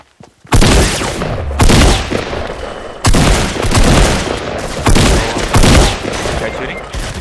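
Rapid bursts of gunfire from a Fortnite Battle Royale squad match, loud and close, arriving in several sharp volleys with brief gaps between them.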